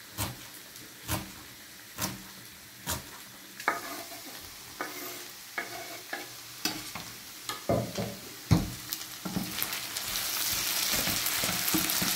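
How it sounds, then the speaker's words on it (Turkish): Food being sautéed in a pan, with repeated sharp scrapes and taps of a utensil stirring over a soft, steady sizzle that grows louder toward the end. "Sonra kavurmaya devam edeceğiz dostlar. Bu pişene kadar."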